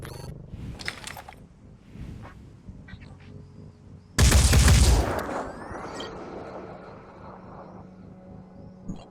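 Gunfire in the turn-based strategy game Phoenix Point: a loud, dense broadband burst around the middle, with scattered smaller shots and rumbling combat ambience before and after.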